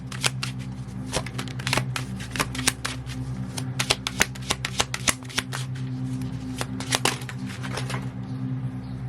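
A tarot card deck is shuffled close by, with rapid crisp riffling and flicking bursts of card edges repeating in a steady pattern over a low background hum.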